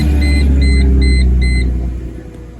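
A Chrysler Crossfire SRT6 engine running after a rebuild, a loud deep steady rumble close by with repeated dashboard warning chimes over it, the engine settling and fading toward the end.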